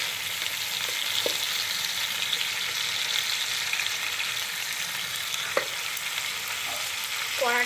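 Tandoori chicken pieces frying in a pan, a steady close sizzle and crackle running throughout with a few sharp spits and pops, no talking.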